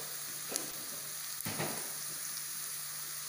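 Vegetables frying with biryani masala and turmeric in a pan, a quiet continuous sizzle broken by a couple of soft stirring scrapes, with no one speaking.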